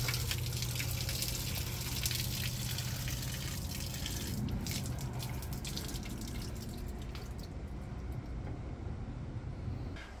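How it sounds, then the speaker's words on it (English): Water runs and splashes steadily from a rain barrel valve, a constant gush with drips, fairly close, easing slightly toward the end. "you can drain this first barrel, like open every valve to drain the water"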